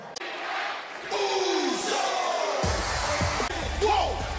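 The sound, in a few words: wrestling arena crowd cheering for a rematch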